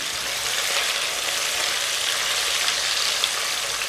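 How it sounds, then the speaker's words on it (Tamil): Fifty grams of green soy beans sauté in refined oil for a vegetable pulao, giving a steady, even hiss of sizzling throughout, with no talking. "அந்த சோயா பீன்ஸ் ஐம்பது கிராமையும் அதில் ஆட் பண்ணிக்கிடுவோம் ஆட் பண்ணிவிட்டு அந்த எண்ணெயில் நல்லா அதை வதக்கி விடுவோம்"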